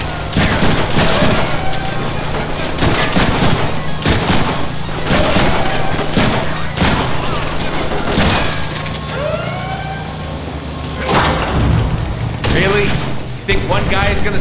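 Gunfire rings out in the Deadpool video game, with repeated loud bursts and sharp shots over a busy mix of game sound, music and a distant siren-like tone.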